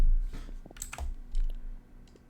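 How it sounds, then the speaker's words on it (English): Keys clack on a computer keyboard in a short, uneven burst of taps, close and fairly clear over a low background hum. "Okay, I'll just type it down"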